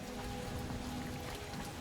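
Steady rain falls in the Guardians of the Galaxy game, a dense, continuous hiss of drops on surfaces with a faint low hum beneath, close and even throughout.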